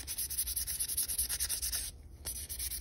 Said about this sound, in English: 1000 grit's really not doing a lot.